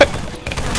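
A sniper rifle shot in Halo 3 multiplayer: a short, sharp burst that cuts through dense background game noise in under a second.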